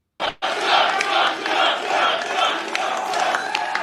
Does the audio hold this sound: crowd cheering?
yes